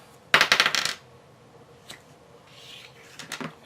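A handful of dice rerolled during a Dice Throne board game make a short rattling clatter onto a table, followed by a few faint scattered clicks.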